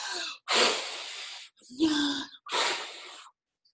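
Hard, forceful breathing exercise with four loud blows of air out, each a sharp rushing exhale separated by brief pauses, close and alone.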